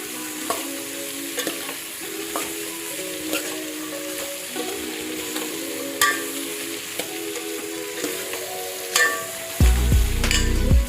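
Chili dropped into hot oil in a Gujarati kitchen, frying with a steady sizzle while a utensil stirs and taps the pan at regular intervals, and a louder burst of frying comes near the end.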